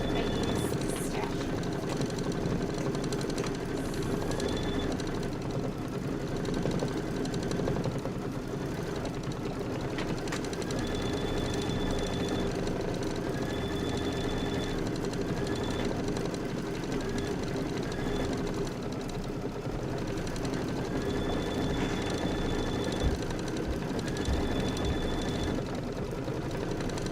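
Embroidery sewing machine quilting stitches onto an appliqué block, a steady continuous mechanical whir with a faint repeating higher tone, running without a break and fairly loud.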